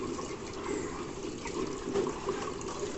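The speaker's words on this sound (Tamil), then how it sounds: "ஸோ சப்டேங்க் ஃபுல்லாக தண்ணியை நிரப்புறோம்." Water runs steadily into a tank, a continuous gurgling fill with a hollow, resonant tone.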